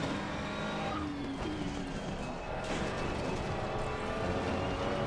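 Ferrari 296 GT3 race car lapping Monza in the Assetto Corsa Competizione racing game, its engine droning steadily and loud throughout with rising and falling pitch and brief tyre scrub.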